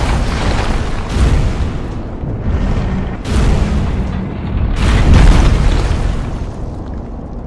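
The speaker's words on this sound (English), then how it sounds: "Instead, the booming sounds of Tower Knight's attacks play off the short, blunt singing in the background." Heavy booming impacts from the Tower Knight boss in Demon's Souls land roughly every second or two, deep and loud, over a dense sustained game soundtrack with no talk.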